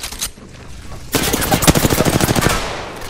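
Automatic weapon fire in the video game Apex Legends, a rapid, loud burst of evenly spaced shots that starts abruptly after a quiet moment and rattles on for about two seconds.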